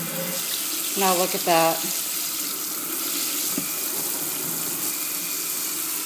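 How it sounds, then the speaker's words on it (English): Water runs steadily from a kitchen faucet with a pull-off sprayer, a close, continuous hiss throughout, while a person speaks briefly over it near the start. "You can take the faucet off with the sprayer."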